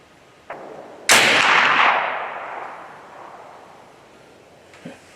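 An AEA Challenger Elite 357 airgun fires a JSB pellet outdoors: one loud, sharp crack with a long fading tail, framed by a faint click just before and another soft click after.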